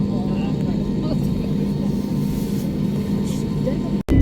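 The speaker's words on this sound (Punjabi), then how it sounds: "ਰਨਵੇ ਤੇ ਜਾ ਰਿਹਾ ਜਹਾਜ਼ ਅਜੇ ਰਨਵੇ ਹੌਲੀ ਹੌਲੀ ਰਨਵੇ ਤੇ ਤੁਰ ਰਿਹਾ" An airplane taxis slowly along a runway, its engines giving a steady, close, continuous drone that barely changes, then cutting out in a sudden brief dropout near the end.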